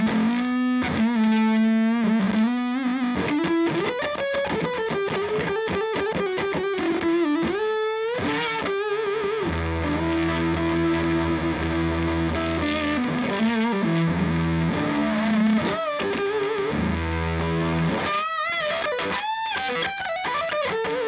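Loud electric guitar through a Roger Mayer Classic Fuzz pedal set to maximum plays continuously, moving from riffs to long sustained chords with a thick, saturated distortion throughout.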